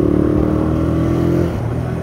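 A Honda Ape 100 mini motorcycle's SOHC single-cylinder engine idles close up, a steady low thrumming chug that eases slightly in the second half.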